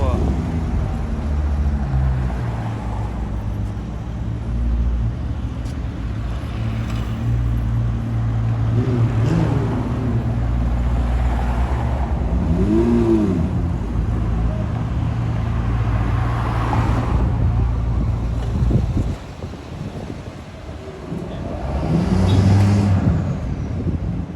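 A Mercedes SL55 and a Ferrari 296 GTB pass along a city street during the Canadian F1 Grand Prix weekend, engines droning and swelling amid steady traffic rumble, with one brief rising pass standing out near the end.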